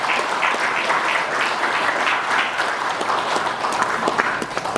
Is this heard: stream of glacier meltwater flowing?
no